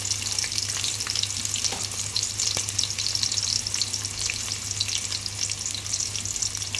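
Onions sizzling and frying in hot oil with cardamom, cloves, cinnamon sticks and star anise, a steady close crackle with no voices.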